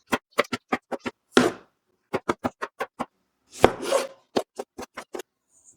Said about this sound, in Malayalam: സവാള, പച്ചമുളക്, ഇഞ്ചി, വെളുത്തുള്ളി, തക്കാളി ഇതെല്ലാം ഒന്ന് നുറുക്കി ആദ്യം മാറ്റി വയ്ക്കണം